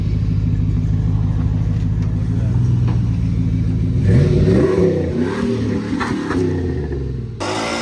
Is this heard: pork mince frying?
no